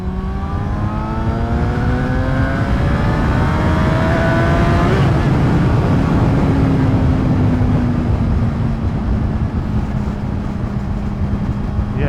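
Suzuki GSR750A 2012 motorcycle accelerating hard at around 80% throttle, engine pitch climbing through the gears, then holding a steady high-speed drone with loud wind rush throughout, close and continuous.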